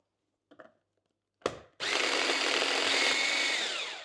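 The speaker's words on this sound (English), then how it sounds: "And I'm going to put those into my little mini food processor here. And all we want to do is mince these up." Raw prawns are minced in a small mini food processor. A few plastic clicks and a lid knock come first, then a sudden loud, steady high-pitched motor whir runs continuously to the end.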